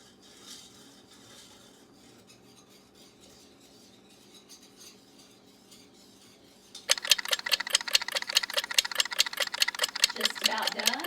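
A boiling sauce is stirred in a pot. After several quiet seconds of faint background, rapid rhythmic scraping strokes start abruptly and continue loud and close to the end.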